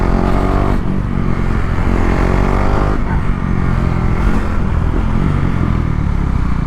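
A KTM Duke 390 BS4 motorcycle engine screams loud and close, revving hard with gear-shift dips as it's ridden fast through a corner, steady and continuous with no talk.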